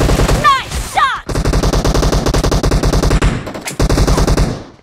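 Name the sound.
gunfire in a video game shooter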